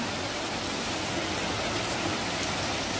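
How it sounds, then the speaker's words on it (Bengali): Heavy rain pours down over a village field beside a school, a dense, unbroken wash of noise at an even level throughout. "প্রচন্ড বৃষ্টি হচ্ছে, প্রচন্ড।"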